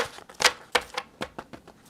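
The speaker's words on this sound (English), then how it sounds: "Let's get them all shuffled." A deck of cards being shuffled by hand, a run of crisp riffling bursts at an uneven rhythm, close and moderately loud with no talking.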